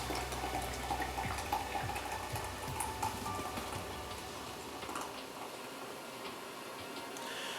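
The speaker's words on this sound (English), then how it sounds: "Start off with pouring an energy drink into our glass." Energy drink poured into a glass for a Jaeger bomb cocktail, a steady fizzing, splashing stream that slowly quiets as the glass fills, heard alone without voices.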